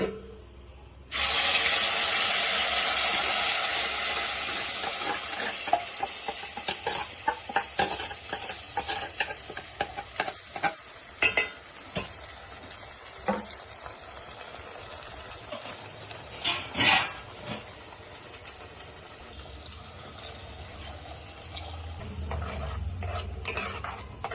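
Masala hitting hot oil for mutton kheema, a loud steady sizzle that starts abruptly and runs throughout, broken by stirring scrapes and clinks of a spoon against the pan.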